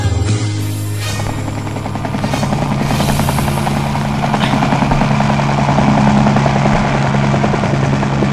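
A helicopter roars steadily and loudly throughout, its rotor and engine noise a continuous close drone with no talking.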